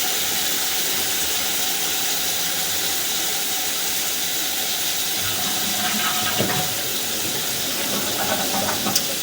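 Water rushes through a whole-house plumbing trap in a steady broadband hiss that stays constant throughout, with faint knocks and gurgles toward the end.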